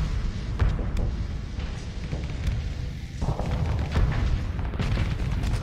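A Venture ship destroyed in a space battle in the video game Starsector, a dense, loud rumble of booming explosions and weapon fire layered together, with a short dip before the blasts surge again.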